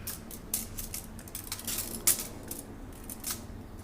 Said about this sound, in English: if you take the measuring tape, I'm going to put it across here